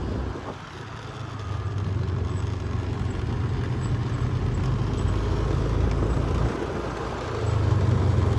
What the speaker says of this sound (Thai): ผมพอให้รถบรรทุกไปได้